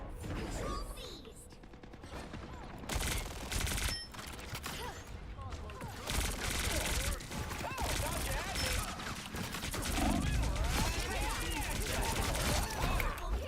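Sustained gunfire in the video game Marvel Rivals, dense rapid shots and mechanical effects running almost continuously over a busy, loud battle soundscape.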